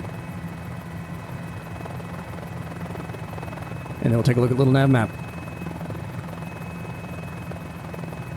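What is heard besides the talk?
Mini-500 helicopter flying in Microsoft Flight Simulator video game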